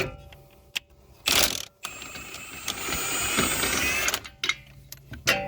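A ratchet works bolts on the shock of a 2012-2017 Toyota Camry, giving a close, steady run of metallic clicking that lasts a few seconds between louder knocks and handling noises.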